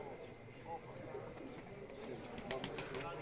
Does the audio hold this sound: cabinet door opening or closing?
no